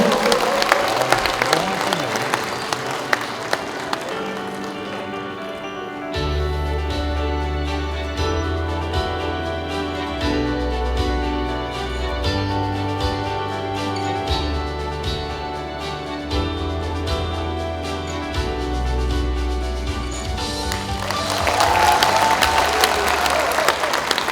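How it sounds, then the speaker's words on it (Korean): Audience applause welcomes a senior Democratic Party adviser onto the stage at a book launch event in Wonju, loud clapping opening and closing the stretch, with a steady music track playing beneath the middle section. "큰 박수로 환영해 주십시오"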